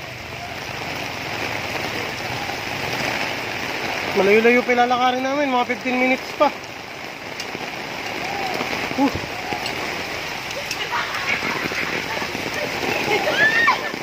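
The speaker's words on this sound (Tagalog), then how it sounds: "Ito, sobrang lakas ng ulan." Steady heavy rain hisses throughout, with a person talking over it for much of the clip.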